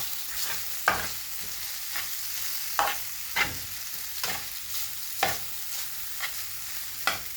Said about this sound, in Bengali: আমার হেলদি নুডলসটা হয়ে একটু ফ্রাই করে নেব